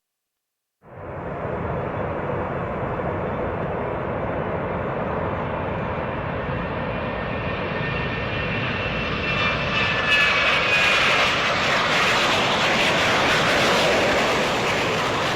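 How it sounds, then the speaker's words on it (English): A Lockheed F-117 Nighthawk stealth jet roars loud and continuous, starting abruptly from silence and building slightly in intensity as it sustains for about fifteen seconds. "The Lockheed F-117 Nighthawk, known as the stealth fighter, stands as an iconic symbol of advanced aviation technology"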